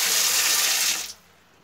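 Water is poured in a heavy, close rush down a bathroom drain, then cuts off abruptly, leaving a faint trickle.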